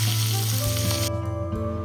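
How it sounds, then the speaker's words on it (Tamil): Chopped turkey berries hitting hot oil with popped mustard seeds give a dense, close sizzle at steady loudness. The sizzle carries over a low steady hum throughout, with no voice present. "கடுகு பொரிஞ்சதுக்கப்புறம் நம்ம நறுக்கி வச்ச சுண்டைக்காவை சேர்க்கணும்."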